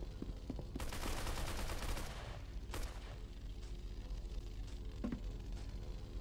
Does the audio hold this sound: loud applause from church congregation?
no